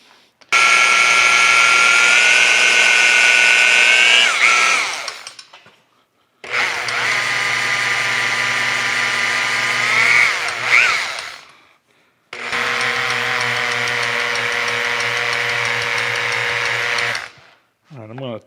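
An electric drill spins a lightly oiled model steam stoker engine in three long, loud runs of about five seconds each, whining steadily with the pitch wavering near the end of each run, separated by short silences.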